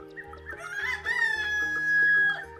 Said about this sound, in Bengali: গৃহস্থ মুরগির খাসার কাছাকাছি আসতেই মুরগিগুলো বলে উঠল